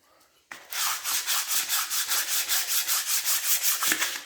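Dry 180-grit sandpaper is rubbed over a Briggs and Stratton cylinder head laid on a flat piece of timber. The close, steady strokes come in a regular rhythm of about four per second, starting abruptly after a short quiet lead-in.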